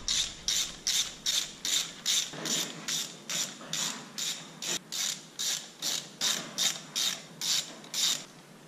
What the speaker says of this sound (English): ratchet them all up evenly